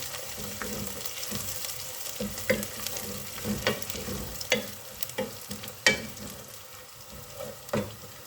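Steady sizzling of ginger garlic paste frying with onions in a pan, with intermittent scrapes and clicks of stirring; no talking.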